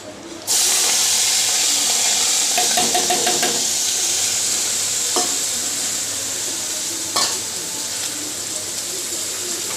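Cut potatoes hit hot fish oil with a sudden loud sizzle, then keep frying in a dense, close hiss while being stirred, with occasional scrapes and clatters.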